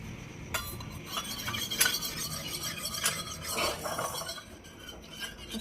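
A spoon stirs hot water in a cup, giving a steady run of close scraping and light clinking against the sides that carries on throughout with no talking.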